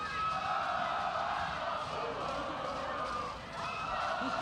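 Fans on the far side cheering at a girls high school soccer championship game, a steady broad crowd roar heard at a distance under a commentator's voice.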